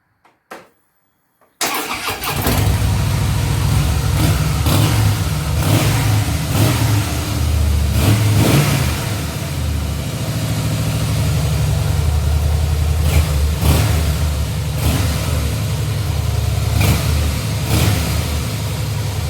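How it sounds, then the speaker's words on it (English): A 2013 Harley-Davidson Softail FLS motorcycle engine starts after a couple of brief clicks, then runs close and loud with a rough, throbbing idle and repeated blips of revving as it warms up. "Now we're going to warm up the engine."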